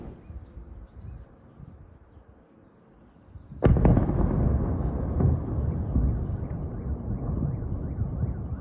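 A sudden loud blast rings out after a quieter stretch of background noise, followed by a sustained roar and rumble that lingers for several seconds.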